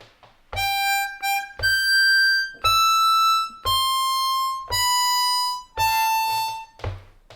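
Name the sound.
C harmonica playing next line of Happy Birthday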